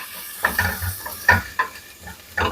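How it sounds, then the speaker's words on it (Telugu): Onions frying in a pan while cooking a bajji and pasta dish, a soft steady sizzle punctuated by several sharper stirring scrapes and spatters at close range. "ఈ ఉల్లిపాయ వేగిపోయిందండి."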